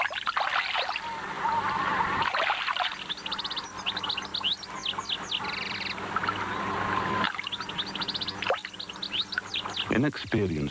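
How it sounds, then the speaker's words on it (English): Small birds, sparrows and a goldfinch, chirp and twitter at a water's edge, with bursts of bright calls throughout over a steady outdoor background. "There's no threat from this group of sparrows and a goldfinch coming to the water's edge for a drink."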